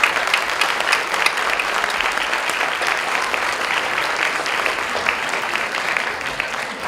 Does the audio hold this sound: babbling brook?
no